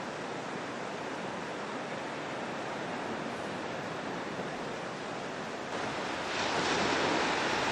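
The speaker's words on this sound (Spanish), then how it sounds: "solo el mar y las olas que van y vienen" Sea waves off the coast of Cádiz wash steadily in and out as a continuous broad roar, rising a little louder toward the end, with no voices.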